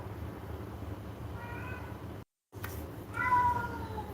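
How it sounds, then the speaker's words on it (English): A domestic cat meows twice at close range, a short call followed by a louder, longer one after a brief dropout, over low room noise. "can you hear my cat?"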